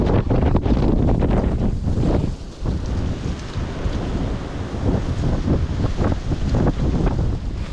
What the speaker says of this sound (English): It is windy as a bitch.